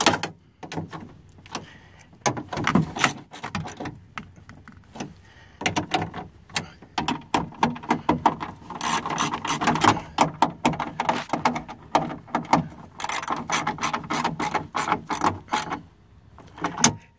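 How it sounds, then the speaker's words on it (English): Metallic ratcheting and clattering from tightening bolts inside the door of a 1996 Toyota Camry during window motor and lock repair, with dense, busy bursts of clicks and knocks that run close and loud for the whole stretch. "So now we can go ahead and tighten the rest of these bolts up."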